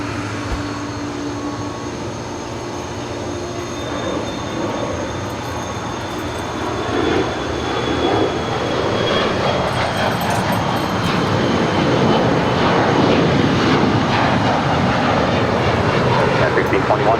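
An Atlas Air aircraft at LAX produces a steady engine roar that swells louder over the second half, with a thin whine running through and radio talk underneath.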